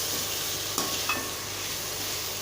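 Vegetable fried rice with potatoes being stirred in a hot pan, a steady sizzle with a couple of sharp scrapes of the spoon against the metal, close and alone.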